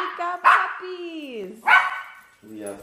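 Puppies let out high, drawn-out yelps and whines, two strong calls with a fainter one trailing at the end, close by and clear.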